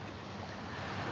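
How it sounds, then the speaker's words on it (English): Steady ocean waves wash on a shore, heard as a continuous, fairly faint rush of surf over about a second, with no voices. "You guys can sit and listen to the waves."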